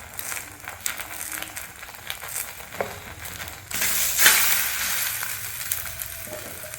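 Parotta frying in oil, a soft crackling sizzle that swells into a louder, brighter hiss about midway, with a few crisp pops on top.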